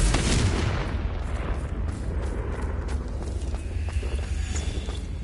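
A Confringo spell explodes in Hogwarts Legacy with a loud, deep boom that fades into a low rumble. Faint clatter and footsteps follow.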